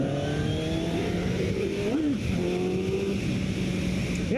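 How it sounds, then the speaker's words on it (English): A 2027 Honda CBR1000RR sport motorcycle engine revs up and down, its exhaust note rising and falling through gears, loud and continuous, with no voices. "The raw throttle response really reminds me of the early 2000s Ducati motorcycles. And the sound of that exhaust."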